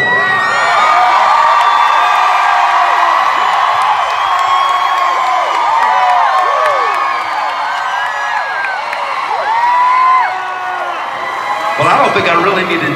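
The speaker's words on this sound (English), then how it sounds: "Y'all, this is one of the biggest crowds of tour." A large live concert crowd in Orlando, Florida, cheers and screams continuously for an a cappella group. High whoops and shouts ride over a dense, loud roar that holds steady throughout, then swells briefly near the end.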